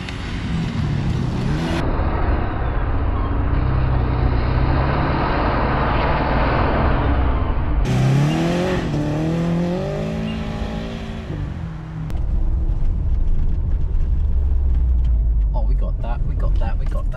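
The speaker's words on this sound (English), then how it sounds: "time to go and give it a little drive" A Subaru WRX drives along with a steady engine drone, its pitch rising and falling through gear changes and one strong rev climb, heard from inside the car with people talking over it.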